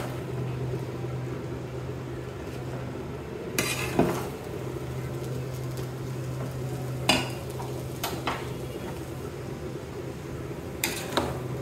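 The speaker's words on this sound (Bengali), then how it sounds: "চিকেনগুলো এগুলো ভেজে নিচ্ছি।" Chicken pieces fry in a pot for biryani with a steady low sizzle, broken by a few sharp clinks and scrapes of a utensil against the metal.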